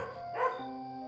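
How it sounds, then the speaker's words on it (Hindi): A single short dog bark sounds faintly over a steady, continuous hum, heard from some distance. "सिर्फ कहीं दूर से कुत्तों के भौंकने और झींगुरों की आवाजें सुनाई दे रही थीं।"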